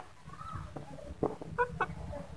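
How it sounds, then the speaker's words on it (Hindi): An Aseel rooster gives a few short, soft clucks against a quiet background of low rumble, fairly faint and intermittent. "बहुत ही ज़बरदस्त मुर्गे हैं"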